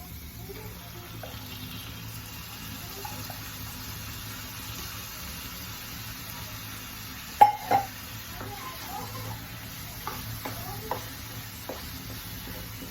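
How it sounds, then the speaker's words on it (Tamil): Ground onion paste sautés in a pan with soft, low sizzling and occasional spoon scrapes and taps against the pan, a couple of louder clinks midway, no talking. "இது கொஞ்சம் நல்லா பச்சை வாசம் போக கொஞ்சம் கலர் மாறுற வரைக்கும் நல்லா வதக்கிக்கலாம்"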